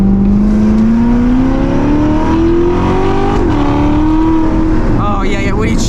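A Corvette C8 engine pulls hard, its note climbing steadily under acceleration with a brief dip near the middle as a gear change comes through, loud and close inside the cabin while a voice talks over it.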